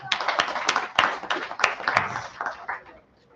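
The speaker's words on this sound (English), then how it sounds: "A loud applause to them." A small audience at a talk claps in a short burst of separate, sharp hand claps that loosen and fade out within about three seconds.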